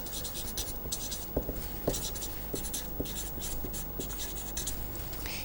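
Pen or marker writing out a sequence definition on a board or page, a steady scratchy stroke texture with small taps as strokes begin, continuing throughout at moderate level with no talk.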